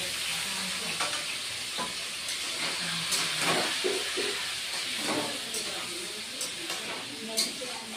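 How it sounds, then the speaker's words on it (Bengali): Pointed gourd (potol) frying in a pan, an even hissing sizzle with scattered stirring scrapes and clicks throughout, close and moderately loud. "পটলটা ভেজে নেব।"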